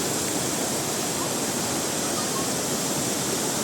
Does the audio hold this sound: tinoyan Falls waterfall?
yes